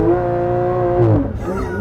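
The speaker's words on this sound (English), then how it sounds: "'22 Porsche 911 GT3 with launch control." A 2022 Porsche 911 GT3 on a wet track holds a steady, loud engine note with strong harmonic lines, then swells and shifts in pitch as it revs near the launch, with some tire noise.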